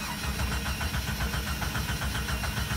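A 1996 Jeep Cherokee engine cranks without starting, the starter turning over in a steady, even rhythm throughout, close and fairly loud, with no catch or rise into running.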